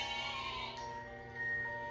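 A sheep bleats in a soft, wavering, tonal cry from a children's storybook projector of The Ugly Duckling, faint and alone over a quiet hum.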